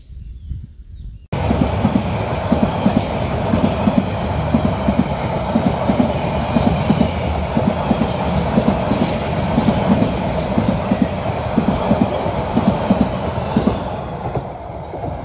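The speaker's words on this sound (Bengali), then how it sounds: "এই ট্রেনটির নাম প্রবাল এক্সপ্রেস ট্রেন। কক্সবাজার থেকে ছেড়ে যাচ্ছে চট্টগ্রামের উদ্দেশ্যে" Probal Express passenger train pulling out of Cox's Bazar toward Chittagong in the morning, a brief hush giving way to a loud, close, continuous rumble with steady rhythmic clickety-clack of wheels over rail joints.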